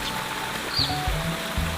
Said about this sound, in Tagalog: dito sa bandang baba yung napakalinaw na ilog